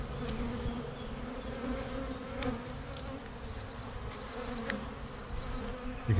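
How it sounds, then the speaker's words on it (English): Honey bees buzz at a rescued hive, a dense close humming drone with individual bees zipping past the microphone, steady throughout with no talk. "Some nice big bees."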